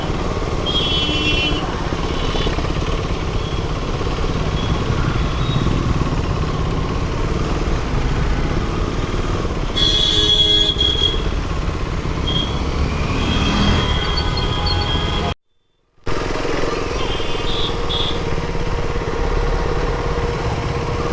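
A KTM RC390 motorcycle engine runs in a steady, close droning rumble that holds for the whole stretch, broken by one brief dropout.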